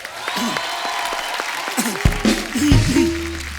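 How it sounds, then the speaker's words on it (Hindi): A studio audience at the Kapil Sharma comedy show applauds, a steady, loud wash of clapping that swells toward the end, with crowd voices and tones mixed in. "विसिल ब्लोअर की टीम के लिए एक बार जोरदार तालियां।"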